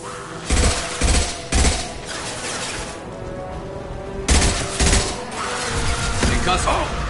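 Gunfire in Mass Effect Legendary Edition: several loud bursts of shots and impacts crack out in clusters over a constant background of battle noise, some bursts close and heavy, others lighter and scattered toward the end.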